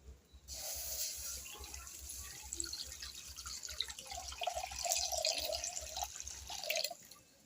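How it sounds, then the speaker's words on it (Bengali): Milk poured into a wok for homemade ice cream, a steady close liquid trickle and splash that runs for several seconds and then stops. "কড়াইয়ের মধ্যে আমি দুধটা দিয়ে দেব"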